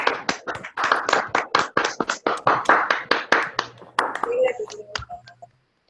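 Scattered hand claps from a small online audience after a physics talk on JT gravity, uneven individual claps over a few seconds that thin out and stop.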